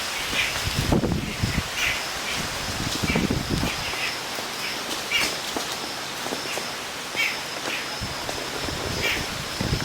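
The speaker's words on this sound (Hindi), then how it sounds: "हवा चल रही है अभी तेज़।" Strong monsoon wind gusts through leaves outdoors in a Himalayan village, rising and falling in strong bursts, with faint bird calls in the background.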